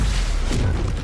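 A Stupefy spell cast in the Hogwarts Legacy video game, heard as a dense, loud burst with a booming low thump that holds steady for about a second.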